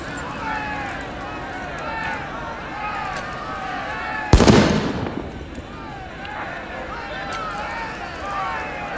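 A single loud bomb blast in the video game RIOT: Civil Unrest bursts out and rumbles away over a few seconds, while people talk excitedly over the game before and after it.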